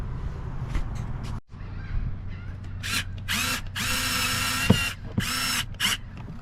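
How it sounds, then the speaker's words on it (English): A power drill drives screws while a boat high water alarm is mounted, giving several close, loud whirring bursts of varying length with short pauses between them and faint handling noise in the gaps. "we're just gonna go ahead and put the screws in"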